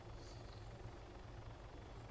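An MH-9 Hummingbird helicopter in the video game ArmA 3 drones with a steady, low rotor thrum and whine, continuous and even throughout, with no talk over it.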